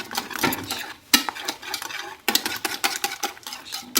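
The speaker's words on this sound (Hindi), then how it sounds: "मैं अब इसमें डालूंगी ये सारे मसाले और इसको मिक्स करूंगी।" A spoon clinks and scrapes against a bowl while spices are stirred into omelette pancake batter, in quick uneven strokes heard up close with no talking.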